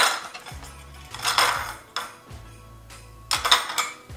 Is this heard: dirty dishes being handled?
yes